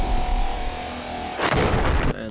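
A loud, deep explosion boom in the video game Subnautica erupts over a steady electronic hum, rumbling for under a second before cutting off abruptly.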